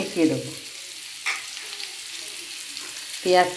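Onions frying in a pan for a Bengali dish, a steady soft sizzle with a couple of brief louder stirring bursts near the start and end.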